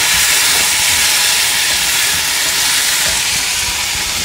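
Tomatoes and chillies sauté in a pan for a peanut and cluster beans gravy, giving a steady, loud sizzling hiss that continues without a break and with no talking.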